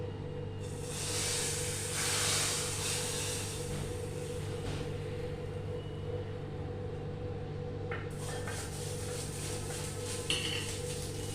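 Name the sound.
pouring hot red-chilli tempering into kadhi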